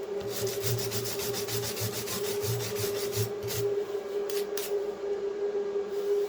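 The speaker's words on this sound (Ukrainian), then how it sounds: "зараз я візьму щітку по металу" Wire brush scrubbing a metal weld by hand, a continuous close rasping and scratching with rhythmic back-and-forth strokes over a steady background hum from welding equipment.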